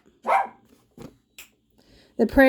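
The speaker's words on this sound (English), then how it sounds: "Apparently I have to deal with cats and dogs now chasing each other." A few short dog barks ring out close by, one loud burst up front and a couple of smaller yips, in a scuffle between dogs and cats, with a fainter sharp bark at the end.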